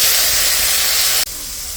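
Cumin, bay leaf, cardamom, chili and ginger sizzling in hot tempering oil, a loud steady close hiss that drops abruptly to a softer sizzle near the end.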